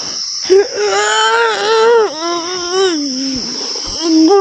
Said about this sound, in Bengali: এখন শুধু ঝিঝি পোকার আওয়াজ পাচ্ছি।